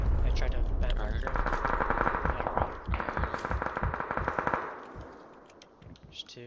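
Rapid automatic gunfire in a shooter video game, loud dense bursts of shots for several seconds that thin out and fade near the end, with a voice mixed in faintly.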